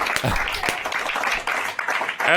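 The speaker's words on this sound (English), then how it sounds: "I think this is where we clap. Please clap." Scattered clapping from a small audience sounds close and uneven, with a voice speaking over the claps.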